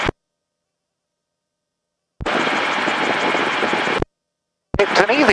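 An autogyro's engine in flight gives off a loud, steady broadband roar in two separate bursts, with silent gaps between them.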